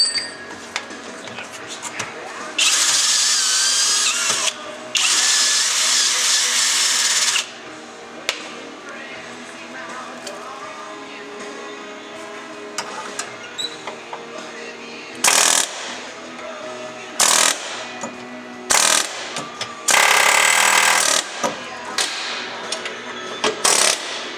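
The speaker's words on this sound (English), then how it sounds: "Let's hit it with the air hammer." Loud, rapid pneumatic air hammer bursts, long and short, driving out Nissan 350Z differential bushings, separated by quieter stretches of clinking and handling noise.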